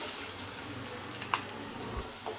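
Onions fry in a pan with cumin, a steady soft sizzle throughout with a brief clink of a spoon stirring near the middle, no talking.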